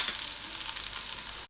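A short burst of loud, steady sizzling as crushed garlic hits hot ghee in a pan, cutting off abruptly at the end.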